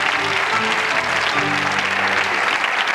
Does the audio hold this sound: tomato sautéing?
no